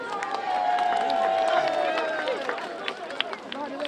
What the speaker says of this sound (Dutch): Applaus voor Sinterklaas.